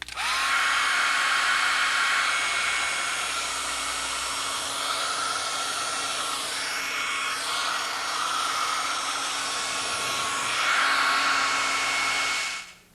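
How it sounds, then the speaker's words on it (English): A hair dryer drying a wet ski boot runs steadily with a loud, constant whirring blow for about twelve seconds, its tone shifting slightly as it moves, then switches off. "if your boot's still wet, you might want to use a hair dryer to finish the job."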